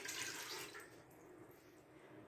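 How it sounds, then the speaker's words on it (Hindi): About two cups of water are poured into a pressure cooker while preparing desi chicken karahi, making a faint, soft splashing rush that fades after about a second into a low trickle. "इसके अंदर हम ऐड करेंगे पानी।"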